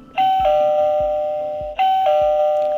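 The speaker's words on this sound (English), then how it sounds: "Who's that ringing the bell at Radio Owl's Nest today?" A doorbell rings twice at a small radio studio, each press a loud, close two-tone chime that lingers and fades, with no talking.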